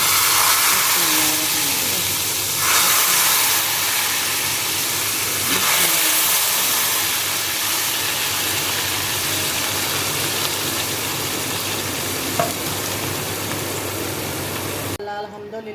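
Cumin and round dried red chillies sizzle in hot oil as a tempering for kadhi pakora, giving a loud, steady hiss that carries on almost unbroken before cutting off abruptly near the end.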